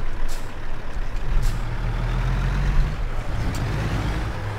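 Low, heavy engine rumble from a truck hauling a trailer in American Truck Simulator, with a brief hiss of air brakes, a steady drone close by and no voices.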